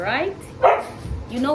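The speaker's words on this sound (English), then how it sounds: "that's our dog, guys. We're calling him and he does not want to come." A pet dog barks in short bursts mid-way, heard over ongoing conversation between people nearby.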